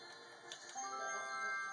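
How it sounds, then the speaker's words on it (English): A bell in Super Mario Sunshine rings with bright, sustained tonal chimes and a few tick-like strikes, heard faintly and alone for under two seconds. "And now the bell will make noise again"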